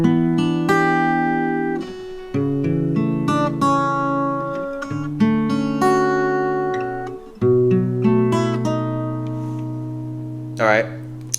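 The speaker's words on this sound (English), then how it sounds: "he's essentially just plucking the strings individually" Acoustic guitar with capo picks out the intro to a pop ballad one string at a time, clear sustained notes ringing into each other in a steady, gentle pattern, close and alone without any voice.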